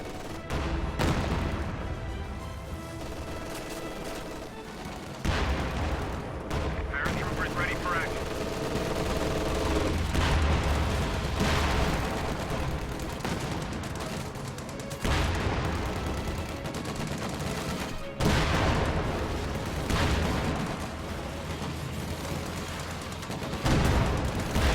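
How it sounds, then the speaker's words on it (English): Su-76 self-propelled gun shelling an area in a multiplayer war game, heavy booms and rattling gunfire layered continuously through a dense battle din, with voices talking over it. "Su-76 bombarding this area"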